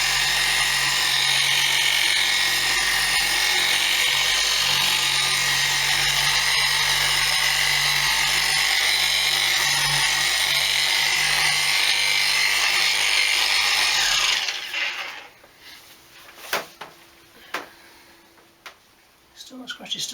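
A Guild dual action polisher runs on car paint with a loud, steady whirring drone held under pressure for about fourteen seconds, then cuts off, leaving light handling clicks and taps.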